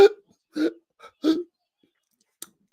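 A man imitates hiccups with his voice, giving three short throaty hics at even spacing, then a faint click near the end, close and alone in quiet.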